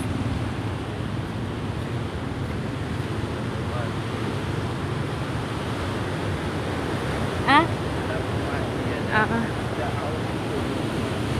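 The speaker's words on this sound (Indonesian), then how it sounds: "Ombaknya besar banget tuh lautnya." Big ocean waves breaking on the shore at Karang Panjang beside a coconut plantation, a steady broad roar of surf mixed with wind buffeting the microphone, even in level for the whole stretch.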